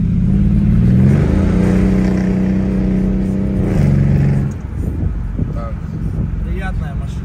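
A car engine drones and revs loudly up close, with a sustained roar that settles and falls away partway through while voices talk over it.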